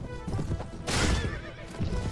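A horse in the medieval battle game Mount & Blade Warband whinnies loudly and shrilly over rumbling hoofbeats and battle noise, with quick hoof clatter before and after the neigh.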